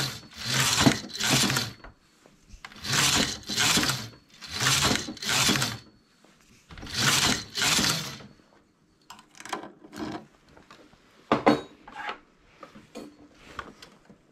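A knitting machine carriage slides back and forth across rows in loud, rasping sweeps, each pass a pair of grinding strokes with short pauses, then lighter clicks and clatters at the end.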